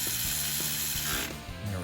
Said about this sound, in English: I'm just using the electric ratchet and just run these down till they just start to